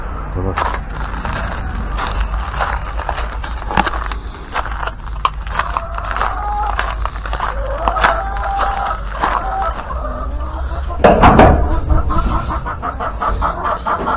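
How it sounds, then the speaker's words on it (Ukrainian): Hens cluck and chatter continuously inside a henhouse before being let out, a busy overlapping flock sound, with a louder scuffle of noise near the end. "У нас кури тут уже просяться."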